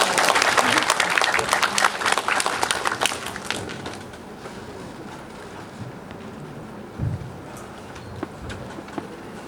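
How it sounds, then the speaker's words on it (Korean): Audience applause at a university Silicon Valley talk concert in a lecture hall, loud dense clapping for about four seconds, then fading to a quiet room with a few scattered claps and small noises. "큰 박수 부탁드립니다."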